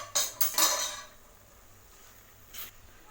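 A spoon scrapes and clanks against a pot of mutton curry with drumstick and potato pieces as it is mixed, giving a few close metallic strokes and then a quieter pause.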